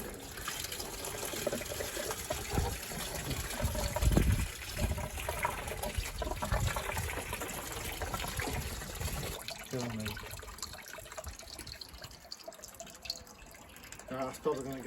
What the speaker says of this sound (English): Rusty water all over the floor